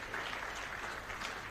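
Faint, steady applause from an audience at a business impact report launch, a soft even patter of clapping throughout a short stretch.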